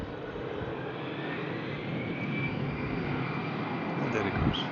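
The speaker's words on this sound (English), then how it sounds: "the Brussels Airlines is ready to take off" Brussels Airlines Airbus A319 jet taking off at the airport, a continuous broad engine roar that holds steady and swells slightly, heard at a distance with faint background voices.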